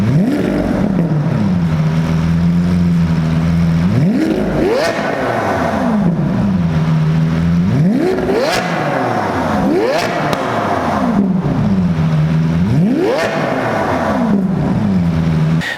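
A Lamborghini Aventador V12 revs hard in a repeating cycle, rising sharply then settling back to a rumbling idle about four times, loud and close, with pops and crackles on the overrun.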